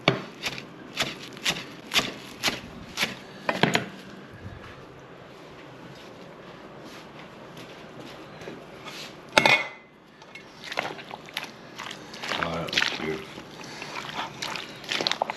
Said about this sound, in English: Let me chop a little parsley real fast.